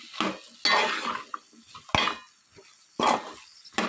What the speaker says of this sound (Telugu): ఇలా మొత్తం బెండకాయ ముక్కలన్నీ వేసేసుకొని ఆనియన్స్ బెండకాయలన్నీ మిక్స్ అయ్యేలా మొత్తం అన్నీ కలుపుకొని